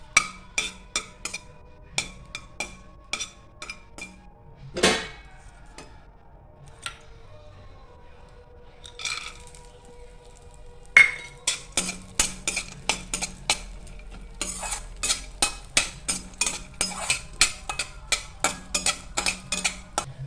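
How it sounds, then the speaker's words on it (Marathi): Dry fruits roasting in a spoonful of ghee for carrot halwa, stirred with a metal spoon: sharp repeated clinks and scrapes against the pan, dense and steady for most of the stretch with a few quieter gaps, close and loud. "त्यात आता आपण ड्रायफ्रूट्स थोडेसे भाजून घेऊया"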